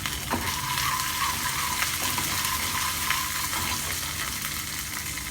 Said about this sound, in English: I'm adding the mustard seeds, cumin seeds, ginger, some green chilies